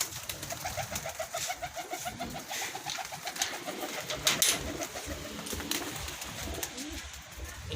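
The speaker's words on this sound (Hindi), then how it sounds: "अब ये हमारे सभी कबूतर देख लो" Pigeons coo softly in a repeating rolling rhythm, with more birds cooing around them in a busy, noisy setting.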